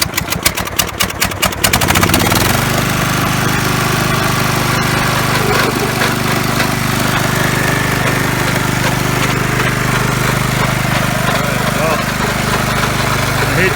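A Sears Craftsman LTX1000 riding mower's engine is started with the clutch off and the choke on. It cranks in a quick run of rapid bursts, then catches and settles into a loud, steady close-up running roar.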